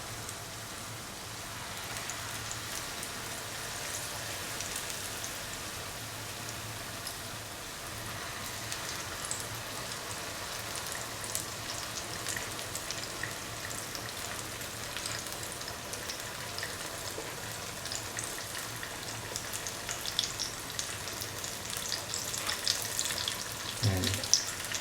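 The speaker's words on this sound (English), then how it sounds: "fry by turning from side to side" Batter-dipped mango fritters frying in hot oil make a soft, continuous bubbling crackle like light rain, fairly quiet and steady, growing a little livelier toward the end with a faint knock near the close.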